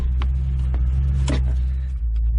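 Steady low engine rumble inside a 2006 Ford Mustang during a ride, loud and continuous, with a few faint clicks and rustles in the cabin and no talking.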